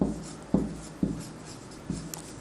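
Chalk or marker strokes on a board during a Hindi-medium English grammar lesson, four short tapping scrapes spaced about half a second apart, fairly close, with no talking.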